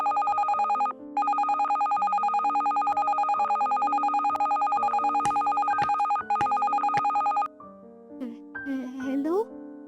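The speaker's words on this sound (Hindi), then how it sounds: "तभी हॉल में रखे टेलीफोन की बेल बजती है" A telephone kept in a hall rings with a rapid electronic bell trill in long repeated bursts, loud and near, cutting off abruptly before a few squeaky tonal sounds follow.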